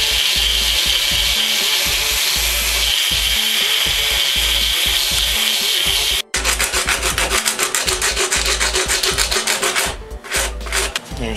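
Wood being sanded by hand with sandpaper while making doors: steady, loud rasping strokes that pause briefly partway through, then resume with a faster, more rhythmic back-and-forth scrubbing.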